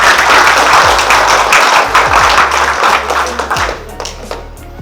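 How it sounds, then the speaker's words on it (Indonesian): Loud, dense applause from the room welcoming the closing speaker at an IMO training course session in a Jakarta hotel, sustained for several seconds before thinning into scattered claps, with a low hum and a few thumps underneath. "Mari kita berikan tepuk tangan kepada Bapak Ramadan."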